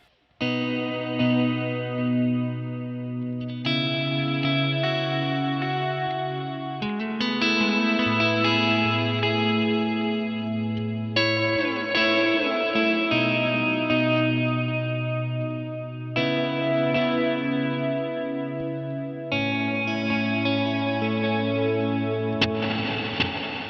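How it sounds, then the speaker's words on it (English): Electric guitar played through delay and reverb effects pedals, with part of the dry signal blended in, ringing out sustained chords and notes with smeared echo trails, loud and continuous with no talking. "All delay, a little bit of reverb"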